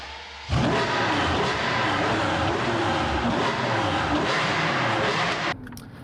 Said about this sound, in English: They've told us we mustn't start cars in the studio.